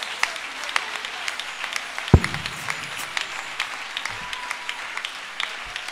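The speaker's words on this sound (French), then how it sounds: "Put your hands together." An audience at a French-English worship celebration claps and applauds steadily, a dense patter of hands with one sharp louder clap, moderately loud and sustained.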